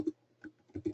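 Typing a website address on a computer keyboard: four quick, close key clicks in an uneven burst, clear and alone with no voice.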